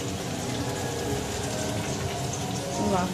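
Steady rain pours nearby in a dense, even hiss, with a brief voice near the end.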